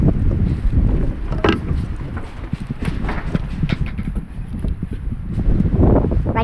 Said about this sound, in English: Right as the wind picks up.